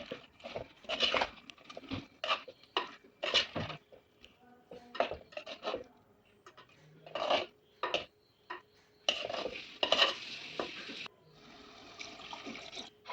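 A spoon stirs and scrapes through a thick egg curry in a pan, irregular rasping strokes with short pauses between them, close up.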